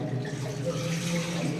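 Water from Rajsamand lake runs steadily into a Shiva temple, a soft continuous rushing and splashing flow heard at moderate distance without pause.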